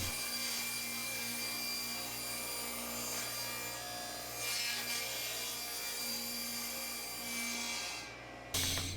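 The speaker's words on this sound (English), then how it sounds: "this is the first cut on my sheet of plywood" A power saw makes the first cut through a sheet of plywood, a steady loud whine and rasp running continuously before it stops abruptly near the end.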